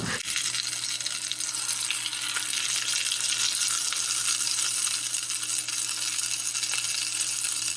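Flipped beef tikka kebab sticks sizzle in a pan of hot oil, producing a loud, even hiss of frying with fine crackling that holds steady throughout, with no voices over it.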